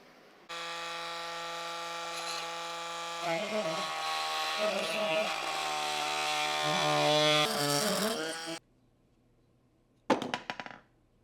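A power tool saws through a piece of driftwood being flattened for a small low-tech shrimp aquarium. The motor whines loud and steady for about eight seconds, then stops, and a brief rattling burst follows.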